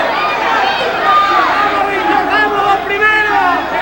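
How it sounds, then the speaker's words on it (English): A boxing crowd roars and cheers in an exhibition hall, a loud, dense wash of shouting voices that swells slightly in waves and never lets up. "Most of this crowd on its feet in the exhibition hall."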